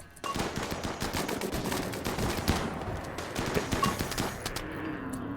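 In the video game RimWorld, an incinerator flamethrower fires at Thrumbos, a dense continuous crackling burst of rapid gunfire-like reports filling the whole stretch at steady loudness.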